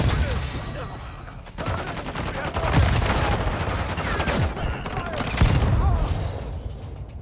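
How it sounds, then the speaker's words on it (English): Gunfire and a grenade blast in the video game Call of Duty: Modern Warfare 2, dense rattling fusillades with booming impacts, mixed with game voices speaking. "Throwing the grenade."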